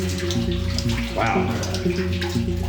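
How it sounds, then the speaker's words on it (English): Steady rushing water flows continuously through an abandoned tin mine with a hollow, echoing quality, and a brief exclaimed voice cuts in partway through. "there's a significant amount of water that comes through"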